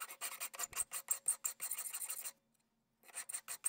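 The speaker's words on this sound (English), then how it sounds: "the big file does make quick work of flattening the back side of the knife." A big metal file is pushed across the back of a knife made from a file, flattening it. About fifteen quick, close rasping strokes come in a steady rhythm, then a short pause, then several more strokes.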